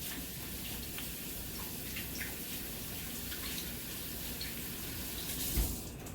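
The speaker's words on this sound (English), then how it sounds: "we'll wash our hands right quick." Tap water runs steadily into a sink while hands are washed beneath it during salad preparation in a home kitchen, a continuous close splashing hiss with faint drips and a brief louder splash near the end, no talking.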